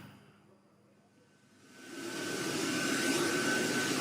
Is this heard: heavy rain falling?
no